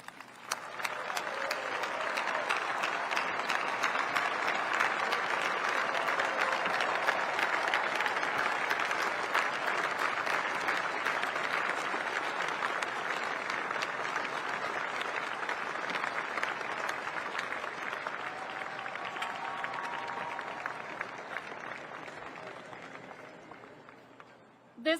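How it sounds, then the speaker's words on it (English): Large audience applauding for the B21 bomber team at a stealth bomber rollout ceremony, sustained dense clapping with some cheering that holds steady for over twenty seconds before fading out. "join me in another round of applause for the outstanding"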